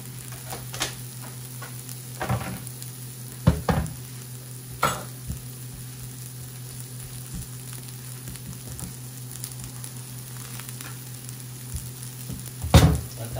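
Butter sizzling in a hot frying pan, a steady close crackle with occasional soft clinks and scrapes of utensils against the pan, no talking.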